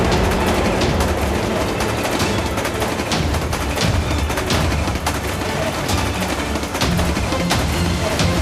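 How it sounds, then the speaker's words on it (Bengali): A cartoon train running in reverse gives a busy, rattling clatter of rapid bursts and knocks that carries on loud and unbroken for several seconds, with no one talking. "আমার ট্রেন উল্টো দিকে যাচ্ছে"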